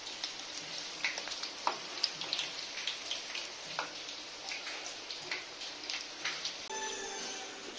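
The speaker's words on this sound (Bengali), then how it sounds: "পুরো গোল্ডেন ব্রাউন করে ভাজছে মা" Chana dal and pointed gourd pakoras deep-frying in hot oil, a quiet bed of fine crackling with scattered sharp pops and ticks, fairly faint and with no talk over it.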